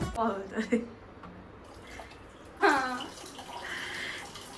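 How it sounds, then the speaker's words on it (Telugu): Water is poured into a pot of vegetables, including cauliflower, for pav bhaji. A soft splashing, running pour is heard beneath people talking nearby. "వెజిటేబుల్స్ మునిగే వరకు వాటర్ వేసుకోవాలంట"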